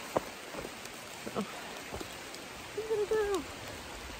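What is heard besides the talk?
rain falling on a forest path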